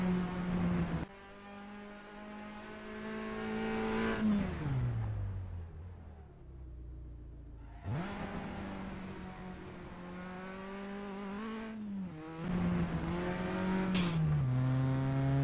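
Simulated Abarth 500 engine in netKar Pro revs up hard, falls away under heavy braking, then climbs again through gears on acceleration, loud and close with no talking.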